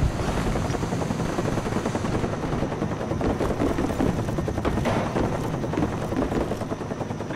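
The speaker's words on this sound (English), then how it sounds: "Friendly spy plane inbound." A friendly spy plane from the multiplayer mode of the video game Call of Duty Black Ops passes overhead, a steady, loud droning engine roar with a rumbling flutter held throughout, mixed with faint game noise.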